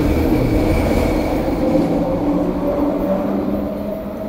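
A Vancouver SkyTrain rumbles steadily at the station, a broad continuous rolling hum with a faint high squeal layered on top, fairly loud and close.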